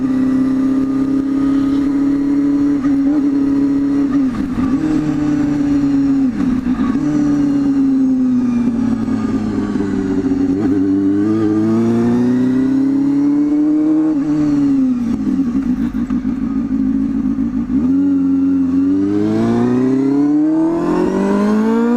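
A motorbike engine, still a bit cold, idling and revving close by: a continuous loud drone that rises and falls in pitch through repeated throttle blips, with no talk.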